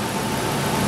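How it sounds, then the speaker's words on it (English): A car engine idles steadily during an idle air control valve test, its RPM rising quickly and smoothly as the valve opening is increased; a continuous close, even engine drone with no speech. "The IAC percentage moved to 50 and the RPM raised quickly and smoothly."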